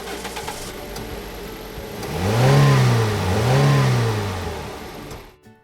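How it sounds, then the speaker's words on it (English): Race car engines rev at the start of a race, two loud, close rising-and-falling swells of a mid-pitched motor over a steady rumble, with no talk. "Ladies and gentlemen, start your engines!"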